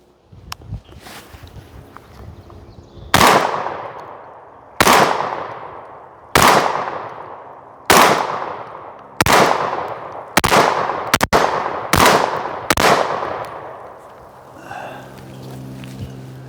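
A Mossberg 930 shotgun with an overhauled action fires about nine loud shots at irregular intervals, some in quick pairs, and each blast rings out in a long decaying echo.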